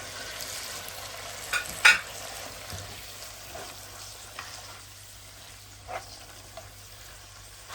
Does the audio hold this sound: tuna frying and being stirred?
yes